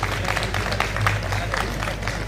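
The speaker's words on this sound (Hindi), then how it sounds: "एक बार जोरदार तालियां मोदी जी और निर्मला सीतारमण जी के लिए लगाइए" Audience applause at a political speech, a steady wash of clapping from a crowd sustained at even loudness throughout, with no clear talk over it.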